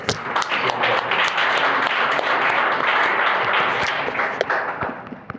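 A room of people applauds young participants at a commemorative gathering, a strong continuous patter of clapping with a few sharper individual claps, fading slightly toward the end.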